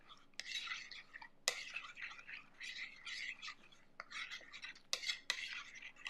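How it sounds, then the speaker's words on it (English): A spoon stirs lemon juice in a bowl with quick, quiet scraping and clinking strokes that come in short irregular bursts, fairly close, with faint voice in between. "We're going to stir it up."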